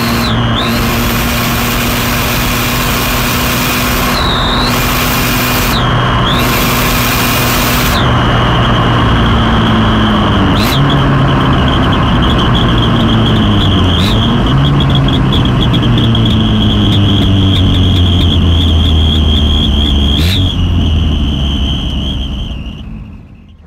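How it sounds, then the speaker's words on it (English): Customised Toyota Tazz with a modified exhaust system, its engine holding a steady loud drone with several sharp revs and a high whine throughout, close up and without talk. "I've never heard a car that sounds like this."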